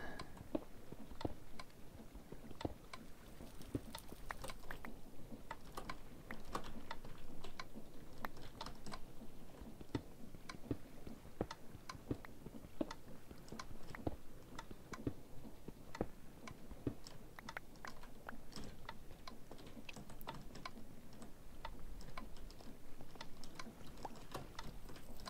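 Constant rapid clicking from an automatic washing setup in the StoneBlock 3 Minecraft modpack, a steady dense stream of small ticks running throughout at low level, with no talking.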